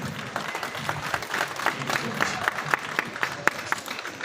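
Loud applause from an audience at a network marketing friends meet, a dense steady patter of many hands with some distinct claps standing out, continuing throughout the short stretch.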